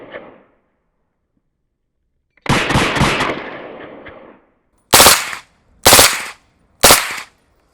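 Select-fire automatic bursts through a SureFire SOCOM-300 SPS suppressor, with three short, sharp, loud bursts in quick succession after a longer rolling burst, each separated by brief silence.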